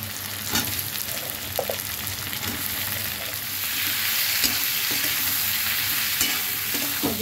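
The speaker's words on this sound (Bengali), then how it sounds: "এবার চিংড়ি মাছগুলো দেবো" Prawns frying and sizzling in a pan with chopped onion and fried potato, a steady hiss with occasional stirring clatters, close and continuous with no talk.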